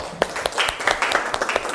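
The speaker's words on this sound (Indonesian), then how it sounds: "Kasih tepuk tangan untuk temanmu." Students in a classroom give a short burst of scattered hand clapping for a classmate, close and lively, lasting under two seconds.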